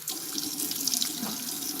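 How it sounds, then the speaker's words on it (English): Tap water runs steadily into a sink for washing the face during a skincare routine, a continuous close hiss and splash with no speech. "we're gonna get this cool water"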